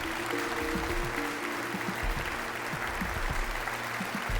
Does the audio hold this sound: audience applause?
yes